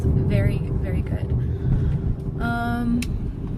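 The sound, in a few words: 2014 Mercedes SL 550 cabin noise at high speed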